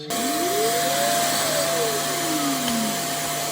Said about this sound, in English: how it drives into its base station, empties its trash, cleans its mop pads